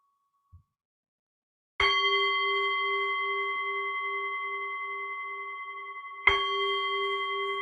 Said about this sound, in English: I will just sound the bell and we can get started with the meditation.